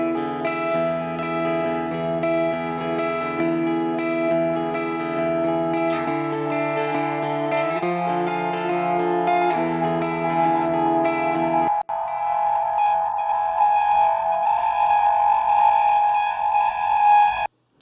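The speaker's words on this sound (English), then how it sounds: "So at the very end, you get distortion just on the last delay." A sustained, heavily effected guitar tone with echoing analog-style delay repeats that swells into a brighter, gritty distorted wash on the last repeat near the end, loud and continuous.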